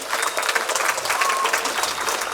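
Dense, steady audience applause at a folk ensemble concert at the open-air Wallachian museum in Rožnov pod Radhoštěm, loud and continuous throughout.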